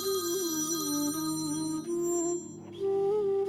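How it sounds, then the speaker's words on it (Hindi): A phone ringtone plays a bright, tonal electronic melody, loud and continuous, dipping briefly before resuming; no one speaks. "ये देख, वकील साहब का फोन भी आ गया।"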